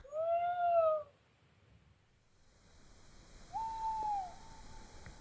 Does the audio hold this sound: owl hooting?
yes